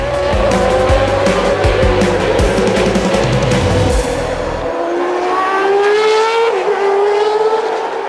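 Formula 1 race cars at the French Grand Prix scream past at close range, a dense high-pitched engine wail with tire squeal, then one car's tone sweeps upward and fades as it pulls away.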